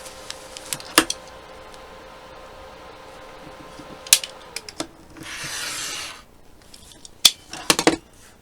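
Quilt fabric is trimmed by hand. Several sharp, close clicks and snips are separated by pauses, with a short soft rubbing swish near the middle and a quick cluster of cuts at the end.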